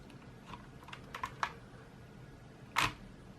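Keys clatter on a Logitech G710+ gaming keyboard whose keys stick slightly: a scattered run of light clicks, then a pause and one louder, sharper clack near the end.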